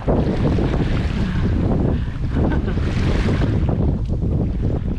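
Strong wind buffets the microphone in a steady roar while a canoe is paddled across open lake water, with water noise beneath and no voices.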